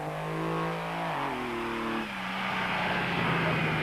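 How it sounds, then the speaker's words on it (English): An off-road raceco race car pulls away at the start of the 1997 Lichtenburg 400 desert race, its engine droning loud and close and stepping down in pitch through gear changes before climbing again. "First car away was the raceco of Stanley Illman and Franz Stangl"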